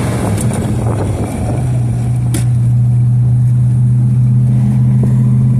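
A 1969 Plymouth Barracuda convertible with a 318 two-barrel V8, dual exhaust and a four-speed manual pulls away and cruises. Its exhaust gives a steady, loud, low rumble, up close, that rises into a deeper drone as it settles.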